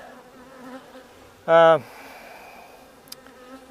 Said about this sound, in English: The bees seem to be doing okay.